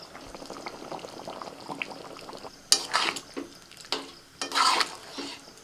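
A pot of potato curry with goat fat simmers on the stove, soft continuous bubbling broken by sporadic louder pops and gurgles, close and fairly quiet, with no voices.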